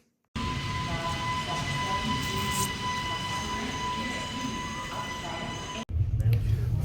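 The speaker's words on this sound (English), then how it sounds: "we are in the train again, heading to Zurich Airport" Steady rumble of a train carrying passengers toward Zurich Airport, a continuous low roar with a faint tonal whine, then a brief dropout and a louder burst near the end.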